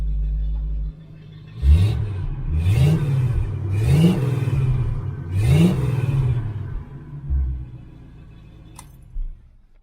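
A 1969 Chevelle Malibu V8 revs four times in a row through a DIY X-pipe exhaust. Each blip rises sharply over a deep, rumbling idle, then settles back, with a short burble near the end.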